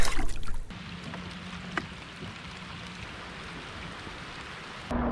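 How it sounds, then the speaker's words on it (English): Steady rain falling on a lake while bass fishing, a dense even hiss of drops on water and surfaces, with a brief heavier burst at the start and a knock near the end, no talking. "Of course, it has to be like pouring down rain."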